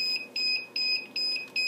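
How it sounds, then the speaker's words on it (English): Repeated shrill beeping from a DJI Phantom 3 drone controller warning of low voltage, a steady pulsed rhythm of short tones heard close and alone. "And the little beeper's going off."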